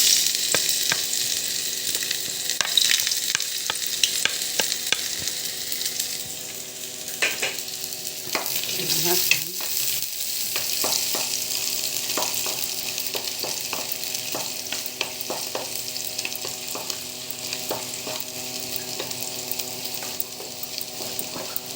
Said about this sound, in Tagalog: Simulan natin yung paggigisa ng bawang at sibuyas.